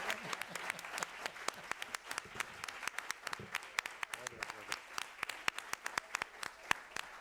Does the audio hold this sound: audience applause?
yes